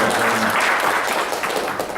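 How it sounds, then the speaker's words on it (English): An audience at a veterans summit gives a round of applause for Jan Perry, a short, dense burst of clapping that fills the whole moment at fairly close range with no talking over it. "Big round of applause for Jan Perry."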